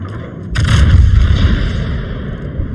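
Main battery guns of the battleship Vermont fire a single heavy, booming salvo in the World of Warships naval game, followed by a long rumbling low-end tail.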